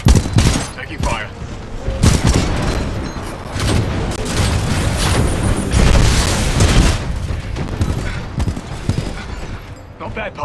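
Heavy gunfire and booming explosions in the shooter Titanfall 2, loud blasts and bursts of shots breaking over a rumbling battle, with a voice speaking briefly amid the combat.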